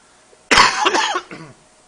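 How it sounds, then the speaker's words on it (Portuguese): A single harsh cough from an adult man with a lingering cough of one or two weeks, close and loud in a quiet meeting room, a short rasping burst followed by a softer throat-clearing tail. "uma tosse me acompanha já, uma tosse de estimação, uma ou 2 semanas"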